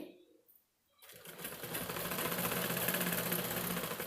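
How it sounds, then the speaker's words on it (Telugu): A sewing machine stitching a fall onto a saree. After a quiet first second it starts up into a fast, steady mechanical whirr of needle strokes that continues to the end. "ఫాల్ కుట్టడం నేను స్టార్ట్ చేస్తున్నాను"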